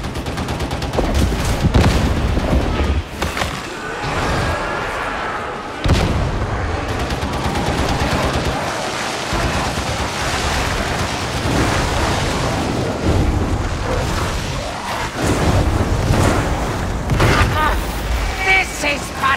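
Grenade blasts boom amid near-constant automatic gunfire in the video game Warhammer 40K Darktide, a dense, loud battle soundscape with voices speaking over the chaos.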